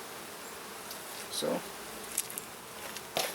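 Many bees buzz around a hive in a continuous close drone, with a few brief louder passes as individual bees fly near, and a voice speaks briefly.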